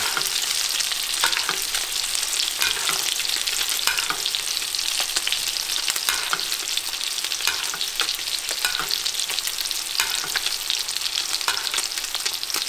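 Fish fillets sear in a pan, producing a loud, constant close-up sizzle with faint clicks and crackles throughout and no speech.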